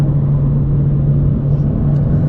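A Nissan 370Z NISMO driving on the road, a steady low engine drone and road rumble heard from inside the car, with no talking.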